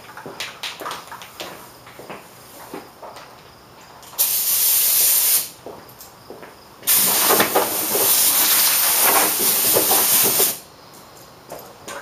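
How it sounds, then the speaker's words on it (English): Plastic Coat sandable primer sprays from an aerosol can in two loud, close hissing bursts, a short one and then a longer sustained one, with quieter handling clicks in between. "The spray bomb primer that I use, or that I have right now, is Plastic Coat."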